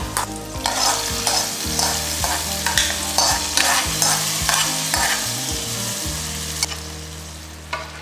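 Ghee-fried raisins are mixed into moong dal parippu pradhaman, a Kerala payasam, with a loud sizzle and a rapid, even series of ladle strokes scraping the pot close up, slowing near the end, with no talking.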